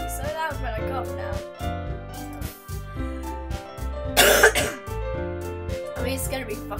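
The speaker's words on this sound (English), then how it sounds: "Hopefully it won't be so loud when I cough now." Amid steady game music, a streamer gives a single sharp, loud cough close to the microphone, a brief harsh burst that stands out from the melody.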